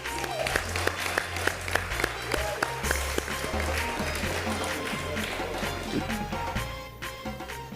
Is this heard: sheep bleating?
no